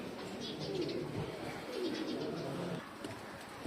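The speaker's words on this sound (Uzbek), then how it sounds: "chiroyli kaptar ekan mana mash kaptar" Soft, low pigeon coos repeat a couple of times against a quiet, hissy background.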